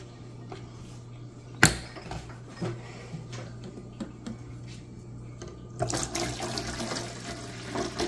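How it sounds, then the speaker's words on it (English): Vinegar pours into a bottle as a soft, continuous trickle of liquid at close range, with a sharp clink near the start and a fuller, louder gush of pouring toward the end. "So let's put a lot of vinegar in here, like tons"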